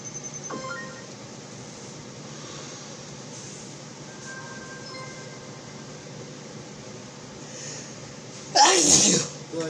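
A person lets out one loud, sharp sneeze close to the microphone near the end, after a long stretch of low, steady background hum.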